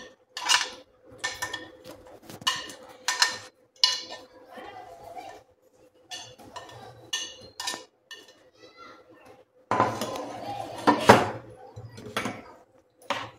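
Spoon clinking and scraping in a bowl while onion and peeled, finely chopped cucumber are stirred and mixed with curd for a koshimbir salad; irregular close clatter with louder bursts near the end, voice talking over it.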